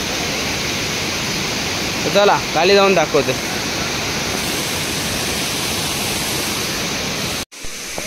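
Savdav waterfall pours in a steady, loud roar of falling water that fills the whole stretch, with someone briefly speaking over it partway through.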